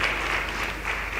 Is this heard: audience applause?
yes